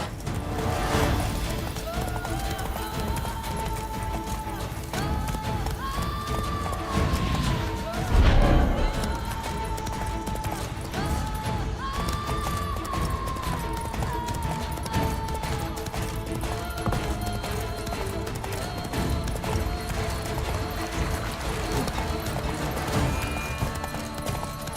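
A horse gallops in the Witcher 3 video game, its rhythmic hoofbeats pounding steadily alongside a continuous game music score, with a louder crash partway through.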